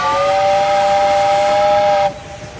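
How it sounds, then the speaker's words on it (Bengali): Loud, sustained steam whistle of the Darjeeling toy train on its hill line, a steady multi-tone blast lasting about two seconds before cutting off to leave a softer hiss. "জোরে হুইসেল দিয়ে"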